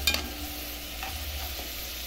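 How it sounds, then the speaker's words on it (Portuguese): Half an onion frying in a pan while cooking potato gnocchi, a soft, steady sizzle with a couple of light clinks at the start, no talking. "Já coloquei a cebola aqui para fritar."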